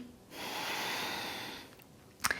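A single long, deep inhale through the nose and mouth during a breathing demonstration, heard as a steady airy draw lasting about a second and a half, followed by a short quiet pause and a brief sniff-like catch, close and fairly soft.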